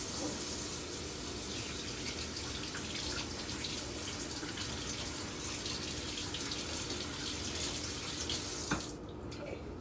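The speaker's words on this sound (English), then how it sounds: "I'm washing my hands." Hands are washed under a running kitchen tap, a steady close splashing rush of water that continues throughout before easing off at the very end.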